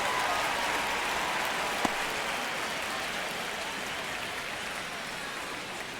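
A stadium crowd in MLB The Show 25, during a tight ninth inning of a Braves versus Athletics game, gives a steady, dense roar and murmur like rain, with one brief click partway through.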